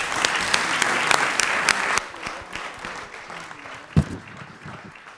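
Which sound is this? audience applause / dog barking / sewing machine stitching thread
audience applause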